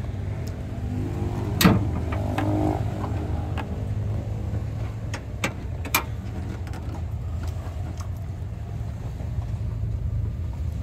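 Suzuki Stingray with a K6A engine running steadily at idle, a low continuous hum with a brief sharp blip near the start and a few faint clicks, heard up close with no talking.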